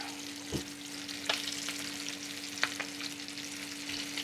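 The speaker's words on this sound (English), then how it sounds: "Now you'll notice this is a pan fry. It's not a deep fry." Chicken wings pan fry in shallow oil in a cast iron skillet, with a steady bright sizzle and occasional pops and spatters, close and moderately loud with no talking.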